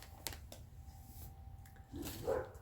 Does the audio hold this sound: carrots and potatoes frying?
no